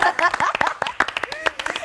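A studio audience on a French television talk show claps in quick, scattered bursts, the close, crisp applause running under a voice.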